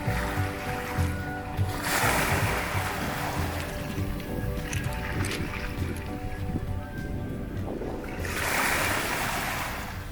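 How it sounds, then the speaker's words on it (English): Sea water washes and drains back off rocks on a beach, a steady hissing roar that swells and ebbs in slow surges over ten seconds, with no voices. "The sound the water makes when it recedes from the rocks on the waves"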